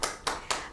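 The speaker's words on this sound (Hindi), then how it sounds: "इस बात पे तो तालियां बजनी चाहिए" Three quick hand claps at a community talk event, sharp and evenly spaced, close and fairly loud with no voices.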